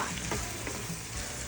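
A pan of gumbo ingredients sizzles and fries while being stirred, a brief, steady, close crackle with soft scraping and no talking.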